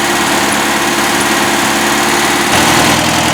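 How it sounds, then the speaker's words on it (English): A 1970 VW Beetle's small air-cooled engine idles with a steady, buzzing putter, close and loud, rising slightly in intensity toward the end. "Finally idling on its own."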